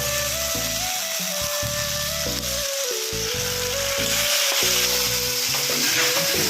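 Ginger garlic paste fries in a pan while an egg curry is cooked, giving a loud, steady sizzle with scraping stirring strokes throughout and no voices.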